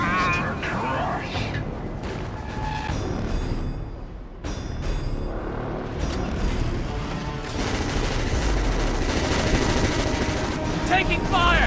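Sustained gunfire in a Killzone 2 firefight, dense overlapping shots and bursts running throughout amid a busy battle mix, with voices calling out over the shooting.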